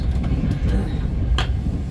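Inside a first-class V/Line passenger carriage on the run from Swan Hill to Southern Cross, a steady low rumble of the moving train fills the space, with a brief hiss near the middle.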